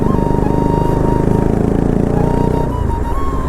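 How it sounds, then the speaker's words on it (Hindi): Bajaj Pulsar RS200 motorcycle exhaust with the dB killer removed, idling loud and close with a steady, fast, throbbing burble and no voices. "अभी हम लोगों ने एग्जॉस्ट का DB किलर निकाला हुआ ताकि साउंड बढ़िया सी है, लाउड सी"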